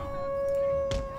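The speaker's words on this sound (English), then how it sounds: "And the wolves are howling." A single wolf howl in Empire: Total War rises as a steady, clear tone over low rumbling, with a short thud near the end; no talking.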